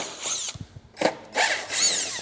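A power tool backs screws out of a Subaru WRX STi headlight in short whirring bursts, pausing between each screw, close and fairly loud with no talking.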